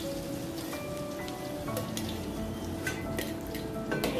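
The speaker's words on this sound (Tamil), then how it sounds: "இப்போ இஞ்சி எண்ணெயில் வதக்கிக்கலாம். அதுக்குரிய சப்படியில் பூண்டையும் சேர்த்துக்கலாம்." Ginger and garlic sauté in hot oil with a steady, soft sizzle, joined by a few light clicks of stirring.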